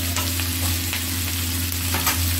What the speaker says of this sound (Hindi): देखिए अब ये प्याज फ्राई हो रहा है